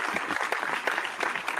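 Short burst of applause sound effect played during a brewing podcast, dense steady clapping close and loud for about a second and a half, alone with no talk.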